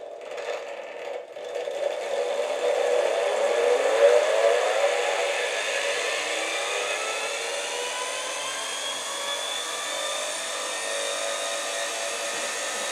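A honey extractor spins frames of honeycomb, giving a steady, loud mechanical whir with rising tonal sweeps as the drum gathers speed, holding a constant drone throughout with no talk.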